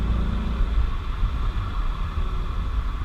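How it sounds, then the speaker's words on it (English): A 2016 Ford Mustang GT convertible engine revs in second gear, a steady loud rumbling drone with no gaps, close and dominant throughout. "Definitely second gear is where this car wants to be. Revving high, sounds great."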